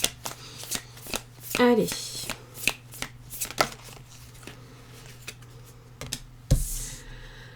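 Tarot cards being shuffled close up for a reading, a series of quick riffling and sliding bursts with taps, while someone speaks briefly.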